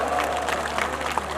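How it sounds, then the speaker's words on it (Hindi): Crowd applause at a live Rajasthani comedy show, a steady, dense clapping wash from the audience sustained throughout without a break. "माता बहनों जोरू ताली बजाओ।"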